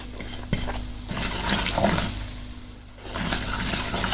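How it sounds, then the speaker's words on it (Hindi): Garlic, ginger and spices fry in a pan in a kitchen while a kadhi is made, giving a steady low sizzle with a few stirring scrapes and clinks of a utensil against the pan. "इसको थोड़ा सा ऐसे फ्राई करेंगे, थोड़ा सा पानी शामिल करेंगे।"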